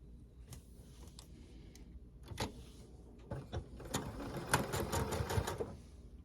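A sewing machine stitches a square-in-a-square quilt block a quarter inch along the presser foot, starting with scattered clicks and short bursts, then running in faster close stitching runs with no talk.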